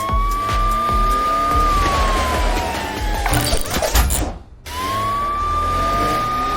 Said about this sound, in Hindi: उस सायरन को इस्तेमाल करके देखो